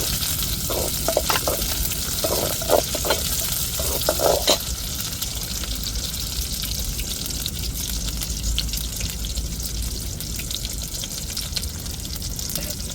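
Chopped onions hit a hot pan of frying chicken with a loud, constant sizzle, and a few utensil clatters from stirring come early on.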